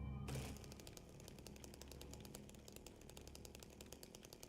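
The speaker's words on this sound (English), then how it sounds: "I'm almost tempted to find a mod which just removes the chainsaw noise, because it gets annoying after a while." Chainsaw in Silent Hill 2 starting with a burst and then running at a steady, buzzing idle with a rapid, regular rattling pulse, faint and continuous.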